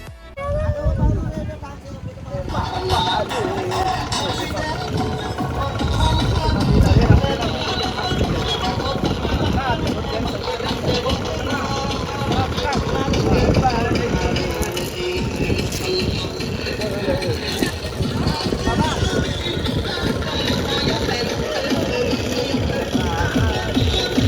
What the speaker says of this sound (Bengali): এর মধ্যে দেখি খুব গান বাজিয়ে একটা বোট আসছে